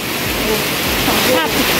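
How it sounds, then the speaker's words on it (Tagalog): Heavy rain pours steadily outdoors at a wildlife park, a loud continuous broadband wash filling the whole clip, with faint voices and background sounds mixed in. "Ang lakas talaga ng ulan"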